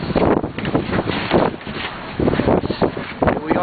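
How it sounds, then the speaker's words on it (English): Strong westerly wind of about 30 knots, gusting higher, roars and buffets across the microphone aboard the 76-foot fishing boat Island Current 3 while it is out cod fishing, loud and gusty in surges. "It's a little breezy, blowing out of the west at about 30."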